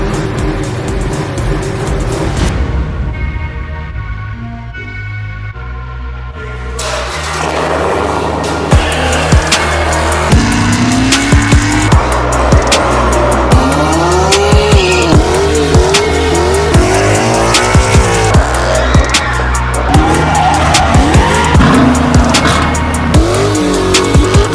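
A turbocharged Dodge Hellcat fitted with Dodge Demon parts roars loudly after a brief quiet gap, with harsh repeated revs and raspy bursts close by for about twenty seconds.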